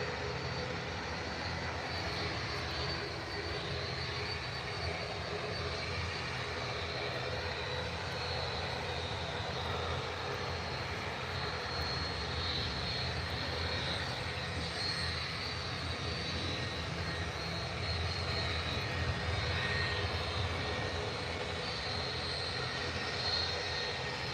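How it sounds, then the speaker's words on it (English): Jet airliners, including Jet2 and Ryanair aircraft, taxi toward the runway at Manchester Airport, their engines giving a steady, fairly distant roar that holds without a break and with no talk. "Jet 2 making the way to the runway, and Ryanair taxis."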